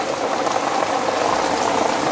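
Heavy rain falls steadily nearby, a dense continuous patter and hiss without any voices or pauses.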